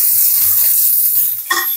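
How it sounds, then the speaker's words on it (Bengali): Onions frying in a pan as the base for a chicken curry, a loud, close, steady sizzle lasting under two seconds, ending in a brief clatter. "এই যে পেঁয়াজটা ভাজা ভাজা হয়ে গেছে"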